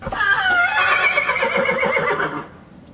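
A horse in training gives one loud, close whinny, a shaky rising-and-falling neigh lasting about two seconds before cutting off into quiet.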